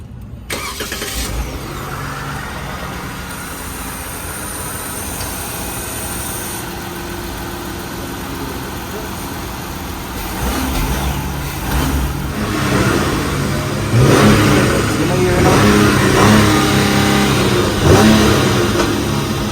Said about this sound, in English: So now that we've started it up, give it a couple revs